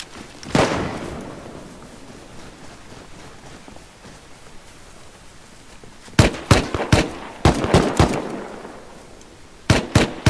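Bolt-action rifle shots in the video game Rust ring out as sharp, loud cracks: a single shot early on, then a rapid cluster of about six reports mid-clip and two more near the end.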